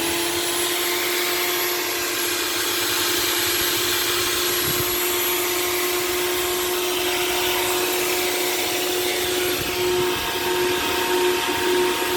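A steady, loud machine whine runs continuously with a strong constant hum, like a table saw spinning freely, with no voices.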